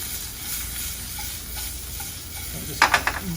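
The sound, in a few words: sautéing wild exotic mushrooms with onion and garlic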